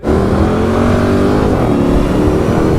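A Jeep Cherokee fitted with a Hellcat engine accelerates hard at full throttle on a bridge, a loud, steady, deep engine roar with rising harmonics that continues without a break and has no talking over it.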